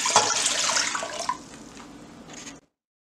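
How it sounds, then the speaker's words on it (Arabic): Two liters of water poured into a cooking pot at home, a steady, close splashing stream that gradually softens, then stops abruptly. "تاو باش نحط 2 لتر من الماء في الكسرونه"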